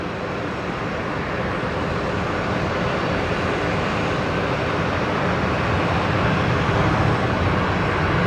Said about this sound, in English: Jetstar 58 in from Denpasar. This is a 321 Neo.